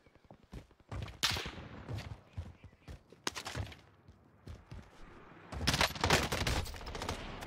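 Video game gunfight with a sniper firing from a hill line, made up of loud crackling bursts of shots and quieter gaps, several clusters spread irregularly through the stretch, with no clear talking.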